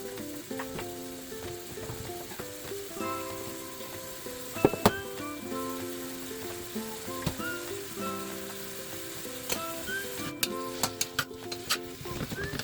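Onions and garlic sizzle steadily in a hot pan for empanada filling, a constant crackling hiss with occasional utensil clinks, while music plays in the background.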